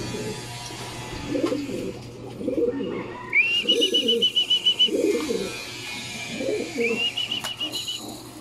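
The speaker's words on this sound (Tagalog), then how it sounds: "Pakainin na natin yung mga ibon dito," Racing pigeons coo repeatedly at feeding time in a loft, soft rolling low calls in clusters, with occasional high chirps and a steady background hum.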